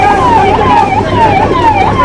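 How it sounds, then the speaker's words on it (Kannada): An ambulance siren wails in a steady rising-and-falling cycle, loud and continuous, while the ambulance is stuck in a Bharat Jodo Yatra foot procession in Karnataka, with a low background rumble of traffic. "ಆದ್ರೆ ಯಾತ್ರೆ ಮಧ್ಯೆ ಆಂಬ್ಯುಲೆನ್ಸ್ಗೆ ದಾರಿ ಮಾಡಿಕೊಟ್ರು."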